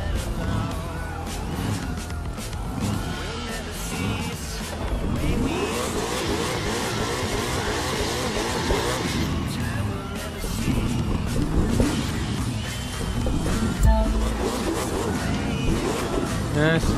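A Ford Mustang engine revs steadily and loudly in the racing video game The Crew 2. The roar is continuous, with rising and falling pitch, and a voice can be heard talking over it.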